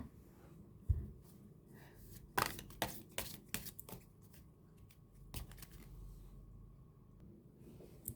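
A deck of oracle cards is shuffled by hand, with a run of crisp, close riffles and flicks coming in irregular bursts over a quiet background.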